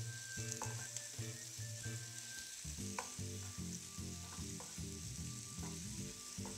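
Food browning and caramelizing in a pan gives off a continuous bright sizzle under a soft melodic backdrop of background music, with a few light scrapes.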